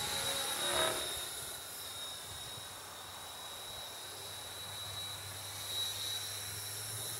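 A radio-controlled model helicopter flies some way off, producing a faint, steady whine and hiss that rises and fades slightly as it moves, with no voices.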